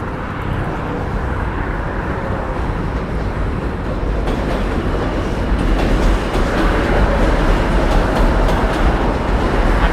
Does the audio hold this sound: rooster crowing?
no